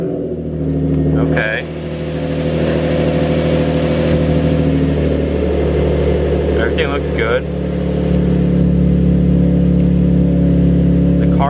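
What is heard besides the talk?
Nissan 350Z engine running after camshaft sensor replacement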